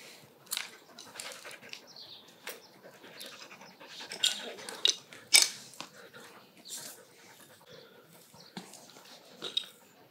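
A shedding dog pants steadily while being brushed to remove knots and burrs, quick breathy puffs close by with occasional whimpers; no one speaks.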